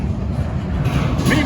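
Norfolk Southern freight train rolling on the tracks, a steady broadband rumble close by that holds evenly and swells slightly toward the end, with some talk over it.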